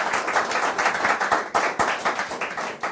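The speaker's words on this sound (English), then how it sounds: "Please, let's give him a rapturous round of applause." An audience at a live product launch event claps for a guest, a dense, lively burst of many hands close by with a few sharper claps standing out, and no talking.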